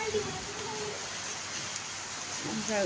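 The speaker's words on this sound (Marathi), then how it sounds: "गॅलरीत पण पाऊस येत आहे" Rain falls steadily into an open gallery as a soft, continuous hiss, heard close and even throughout with a faint voice beneath.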